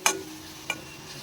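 Spices for Gujarati thepla dough being stirred in a pan, a faint sizzle with two brief scraping clicks of the spoon, the first louder, then quiet.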